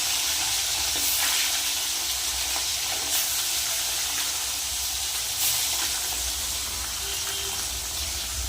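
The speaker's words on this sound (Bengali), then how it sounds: "তেল গরম হয়ে গেছে এবার মাছগুলো দিয়ে দিই" Amudi fish fry in hot oil, giving a loud, dense, continuous sizzle with a low background rumble, steady throughout and without talk.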